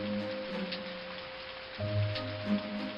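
Heavy rain falls steadily in a story sound effect, a soft, even hiss of patter at low level with a faint steady tone and a few low rumbling swells underneath, with no voices.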